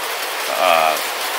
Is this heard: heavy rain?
yes